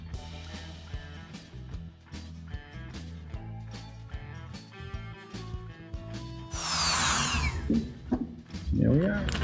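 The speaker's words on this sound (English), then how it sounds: "we're going to use my favorite tool, the Dremel cutoff wheel, to get rid of these" A Dremel cutoff wheel cuts the mirrors off a diecast Maisto Lamborghini model car, a loud, high whining grind lasting a couple of seconds after a stretch of talking over background music.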